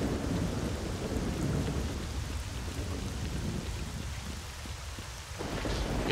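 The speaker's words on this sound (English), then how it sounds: "The only thing that's helped me with the light is this thunderstorm." Steady heavy rain and rolling thunder in S.T.A.L.K.E.R.: Shadow of Chernobyl, a dense continuous storm roar that swells loudly and dips briefly near the end, with no talking.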